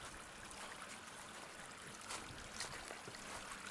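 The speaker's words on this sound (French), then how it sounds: "Voilà, là, un petit ruisseau." A small stream runs through wet meadow along a damaged riverbank, its steady, faint broadband trickle and rush continuing without pause and without voices.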